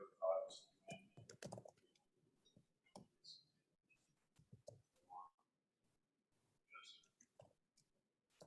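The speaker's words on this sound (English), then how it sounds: "Type it in." Light computer keyboard typing with scattered irregular clicks and taps, quiet and close, alongside soft whispery voices and mouth noises.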